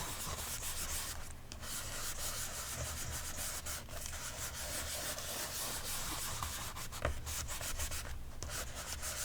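Distress ink gently rubbed onto paper with a soft scrubbing, sanding-like friction that runs steadily and close up, with brief pauses between strokes and no speech.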